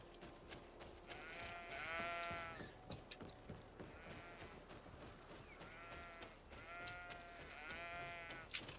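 Sheep bleat in the video game GreedFall, a run of wavering, nasal cries repeating every second or so over a quiet ambient bed, some overlapping, moderately close.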